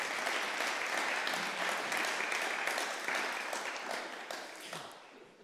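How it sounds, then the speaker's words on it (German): A church congregation at an ICF Basel service breaks into dense, sustained applause that fills the room, steady for several seconds before tapering off slightly at the end. "Applaus für den Raffi."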